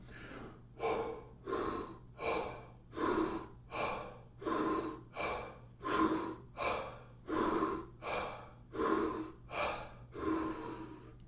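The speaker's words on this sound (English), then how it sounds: "So it's that deep breathing." Deep breathwork in a beginners' psychedelic breathing session: about a dozen slow, heavy breaths, each a loud airy rush in and out, repeating in a steady rhythm close up with no talking.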